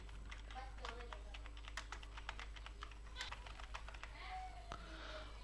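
Someone types a ChatGPT prompt on a computer keyboard in a quiet room, with irregular bursts of soft key clicks at a low, faint level and brief sliding sounds between them.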